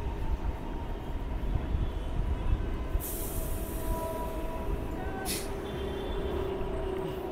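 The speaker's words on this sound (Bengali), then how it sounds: "তলার ট্রেনের আওয়াজ পাওয়া যাচ্ছে হাওড়া ডিভিশনের" Train running on the lower Howrah division line below Bally Halt station, a low, steady rumble from below, moderately faint, with two sharp hissing bursts partway through and no talk over it.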